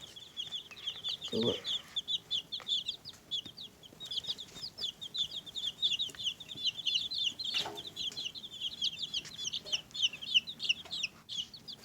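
A flock of baby chicks in a brooder peeps constantly, a dense overlapping chorus of high chirps running close and moderately loud throughout, with brief soft rustles and thuds beneath.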